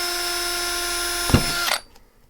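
A power drill whines at high speed, close and loud, then winds down and stops, leaving near silence.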